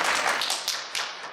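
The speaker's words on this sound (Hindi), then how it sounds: "तालियां देख लो इनकी है ऊपर से" Audience applause at a comedy stage show in Lahore: a brief burst of dense, crisp clapping from a nearby crowd that tapers off within a second or so.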